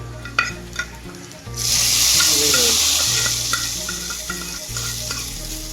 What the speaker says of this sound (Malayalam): ജസ്റ്റ് ഒന്ന് നമ്മൾ തേങ്ങാപ്പാൽ ഒഴിച്ചിട്ട് ഒന്ന് തിളച്ച് വന്നിട്ടുണ്ടോ